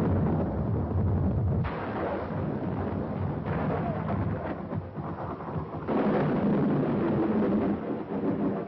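Deep rolling thunder from a mountain storm in a 1951 film, continuous loud rumbles with rain-like hiss, surging again in a fresh heavy roll toward the end.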